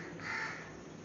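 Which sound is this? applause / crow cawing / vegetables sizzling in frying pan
crow cawing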